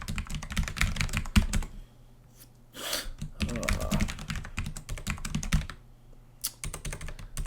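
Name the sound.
typing HTML code on a computer keyboard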